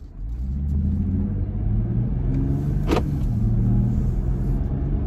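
A Jeep Gladiator pulls away from a stop under throttle, its engine a steady low rumble that builds gently as it accelerates, with a brief higher whine or squeak cutting in near the middle, close and without talk.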